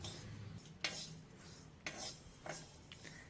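Whole coriander, cumin, fennel and ajwain dry-roasting in a pan, gently stirred: faint, soft scraping strokes come at intervals over a low background hum.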